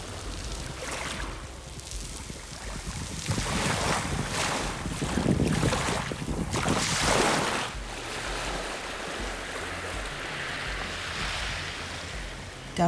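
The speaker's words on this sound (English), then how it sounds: "listening to the songs of the waves" Waves wash and roar steadily against a rocky beach in Lubec, Maine, mixed with gusty wind buffeting the microphone, with no voices.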